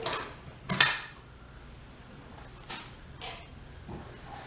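A can of crushed pineapple is opened and spooned out, giving a few quiet metallic clinks and scrapes spaced across otherwise hushed room tone.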